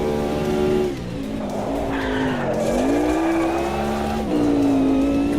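Race car engine held at full throttle while the car skids in the AMS2 racing game, a loud sustained whine that swoops up and down in pitch alongside tire squeal, with no talking.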